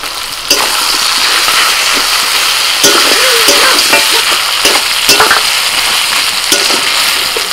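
Thin tomato slices fry loudly in a pan for a mutton dish, with a dense, close sizzle and intermittent stirring scrapes throughout.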